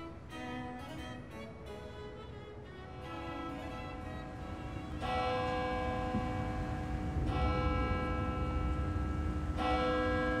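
A medieval church bell at the Barmen church rings in slow, repeated resonant strokes, each leaving a long ringing tail, moderately loud and distant-sounding with no speech.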